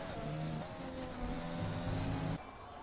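A rough-running Honda Formula 1 engine in a Belgian Grand Prix race of a racing video game, a steady loud engine drone with shifting pitch that drops away abruptly near the end.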